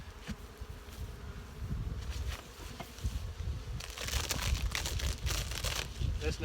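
A steady, dense buzz of many honey bees in a nucleus hive, swelling slightly louder toward the end, with faint rustling underneath.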